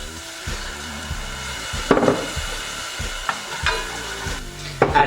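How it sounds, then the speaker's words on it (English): Shallots sizzling in a sauce pot as black vinegar and rice wine vinegar go in to deglaze, a loud close crackle under irregular stirring scrapes and knocks of a utensil against the pot. "We're gonna deglaze our sauce pot with 1 tablespoon of black vinegar, and 1 tablespoon of rice wine vinegar."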